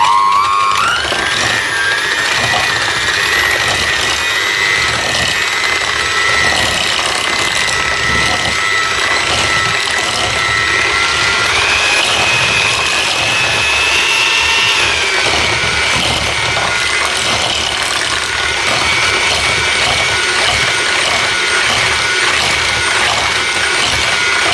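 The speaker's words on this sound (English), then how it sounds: "So when I'm on my own, I just need to use just a regular hand mixer." An electric hand mixer whirs loudly and continuously close by as it beats dairy-free banana bread muffin batter, its motor pitch rising slightly and wavering as the batter thickens.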